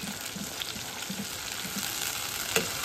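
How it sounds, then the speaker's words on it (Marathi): Gravy for a spiced brinjal masala fries in oil in a pan, a continuous soft sizzle with light bubbling and the occasional scrape of a spoon, close up and with no voices. "ही ग्रेव्ही आहे ती तेलामध्ये अशी मस्तपैकी परतून घ्यायची आहे"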